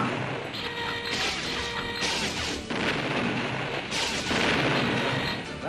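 Rapid gunfire from target practice in a 1988 animated police series, with loud, dense bursts of shots and crashing impacts that start and stop in several clusters and overlap with music or effects.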